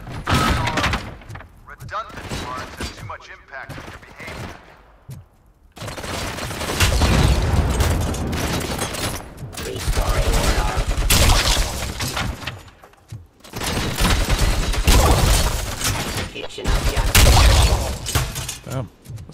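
Bursts of gunfire in a shooter video game, loud and dense, coming in long sustained volleys separated by brief pauses, with a player's voice talking over parts of it.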